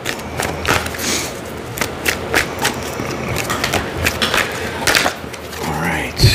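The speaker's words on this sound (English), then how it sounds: "a couple more shuffles, and then we'll get right into it" A deck of tarot cards is shuffled by hand in a series of crisp riffling bursts, close and fairly loud, separated by brief pauses.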